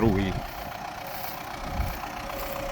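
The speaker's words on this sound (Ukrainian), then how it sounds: "Вибачайте, бо чути трохи трактора." MTZ 792 tractor pulling a plough through barley stubble, a steady mid-pitched engine drone heard at moderate distance beneath a man's brief speech.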